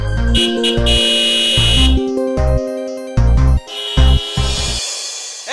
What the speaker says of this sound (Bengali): এত জোরে জোরে হর্ন বাজাচ্ছি